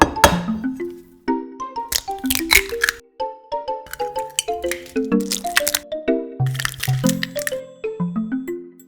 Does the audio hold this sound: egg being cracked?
yes